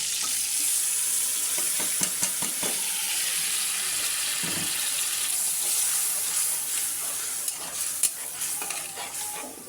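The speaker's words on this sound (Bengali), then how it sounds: "এখন আমি পেঁয়াজ মরিচের একটু পানি সহ দিয়ে দেবো পেঁয়াজটা" Chopped onion and chili sizzling in a pan with a splash of water, a steady loud hiss with occasional stirring scrapes and clinks, no voices.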